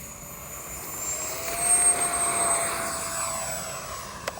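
A Freewing F-22 70mm EDF RC jet taking off, its ducted fan a steady high-pitched whine that swells and rises as the model accelerates away, loud and continuous with no voices.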